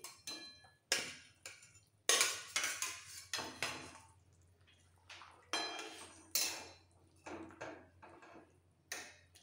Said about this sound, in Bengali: এবার ভেজে রাখা মাছগুলো দিয়ে দিচ্ছি।